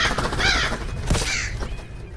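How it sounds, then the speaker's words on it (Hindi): Crows cawing in The Lightkeeper game: two or three harsh, close caws in quick succession. "वैसे और कौवों की आवाज आ रही है।"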